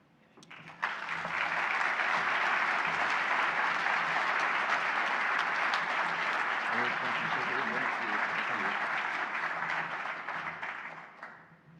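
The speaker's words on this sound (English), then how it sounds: "One more round of applause." Sustained applause from an audience at an award ceremony for the Silver Bowl Award, swelling in abruptly and holding as a dense, even wash of clapping for about ten seconds before fading, with faint voices underneath.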